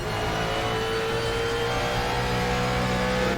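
Race car in the RaceRoom Racing Experience sim accelerating hard, a loud, steady engine roar with rising harmonic tones held close and continuous throughout, no voices.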